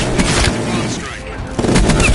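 Bomb strike explosions and heavy gunfire in the Call of Duty: Cold War campaign, loud dense blasts and booms in two bursts around a brief lull, with a voice talking over the din.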